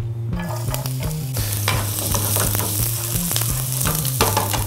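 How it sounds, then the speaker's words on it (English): Garlic fries in hot vegetable oil with a loud, steady sizzle and crackle close up, scattered pops over a constant hiss, with no voices. "We're just letting the garlic lightly brown."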